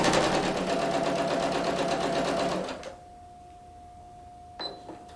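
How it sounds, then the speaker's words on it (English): A domestic sewing machine runs a continuous quarter-inch gathering stitch line for nearly three seconds, loud and steady with a fast mechanical chatter, then stops, leaving a faint hum and a brief clack near the end. "first line of stitching at a 1/4 of an inch seam allowance"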